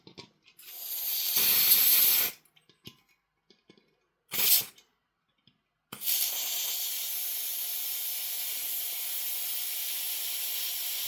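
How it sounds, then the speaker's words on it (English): Hi-Capa airsoft pistol magazine with a replacement valve being charged with gas: two short sharp hissing bursts, then a loud steady continuous hiss of gas spraying that runs to the end, close up with no talk. "Let's try and gas this up now."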